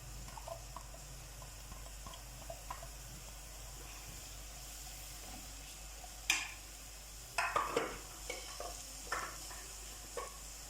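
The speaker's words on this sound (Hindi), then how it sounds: "इसको जस्ट सौते करना है, बहुत ज़्यादा हमने नहीं पकाना।" Quiet, steady sizzling of onions sautéing in a pan for chicken keema, with a few short scraping stirs near the end; no voices.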